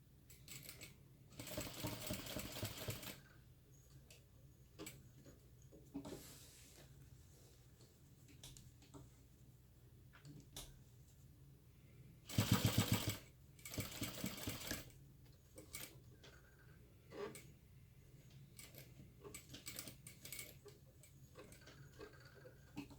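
A sewing machine backstitches through vinyl on a crossbody bag in several short separate bursts of stitching, with one louder, denser run near the middle and quiet gaps between, no voices.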